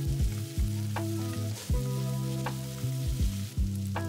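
Onions stir-frying in a pot for a spice curry made with S&B curry powder, a steady sizzle broken by several low thumps and scrapes of stirring, close and alone without talk.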